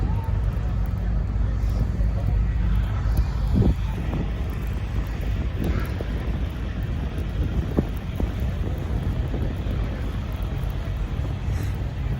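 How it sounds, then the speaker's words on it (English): Storm wind buffets the microphone in a steady, heavy low roar during a snowstorm in Ottawa, with scattered thumps and gusts across the stretch. "This is an unreal storm."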